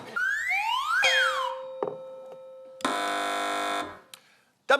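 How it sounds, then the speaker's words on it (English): Game show buzzers pressed by competing teams on a panel quiz, heard as a string of rising and falling electronic tones followed by a long, loud sustained buzz and a sharp final beep. "Fingers on buzzers, teams."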